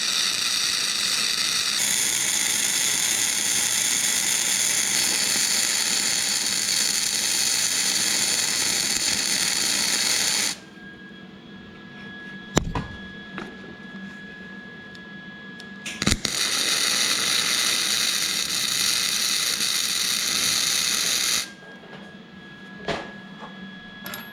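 Welding a chain tensioner onto a Keystone mini bike, a steady hissing crackle of the arc in two long bursts with a quieter pause between, broken by a couple of sharp knocks.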